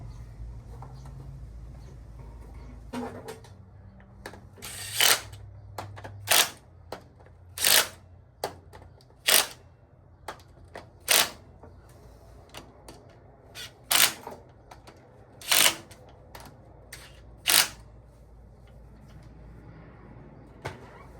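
A torque wrench clicks sharply at regular intervals while bolts are torqued on an International 1256 tractor engine during a rebuild, about a dozen crisp close clicks over a quiet background.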